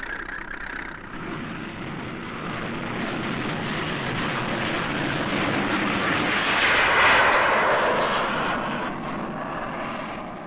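A Boeing B-52 jet bomber roars overhead in a steady, loud, broad engine rush that swells to a peak and then eases slightly as it passes.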